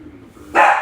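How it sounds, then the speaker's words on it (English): A single loud dog bark bursts out after a quiet moment, close and sharp, then quickly fades. "Sorry, that's my dog."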